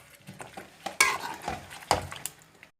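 Stirring chicken white karahi after ground cumin and coriander go in: a metal spoon scrapes and clinks against the pan in a few distinct strokes, close and fairly loud, with a soft sizzle beneath.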